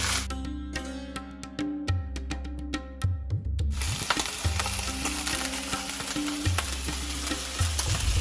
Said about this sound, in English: Yes, he is indeed searing them.